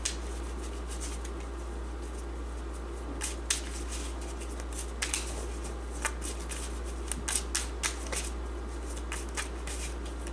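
Tarot cards being shuffled by hand, a run of soft papery riffles and taps repeating irregularly over a steady low hum, close and fairly quiet with no talking.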